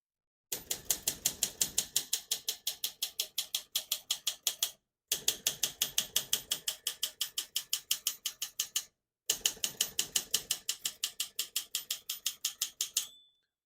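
A 1960 Olympia SM4 portable typewriter clacks through three bursts of rapid, evenly spaced keystrokes, each run of crisp mechanical strikes separated by a short pause, close and alone.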